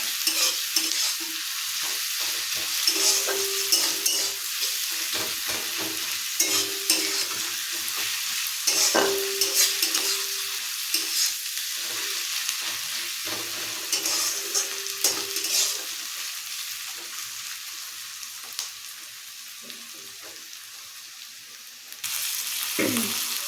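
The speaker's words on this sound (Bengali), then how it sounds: "মশলাটা আগে কষে নিয়ে তারপর ওটা দেবো" Ginger paste and spices frying in a pan for a home-cooked curry, with a steady loud sizzle throughout, punctuated by repeated stirring scrapes of a spoon against the pan, and no talking.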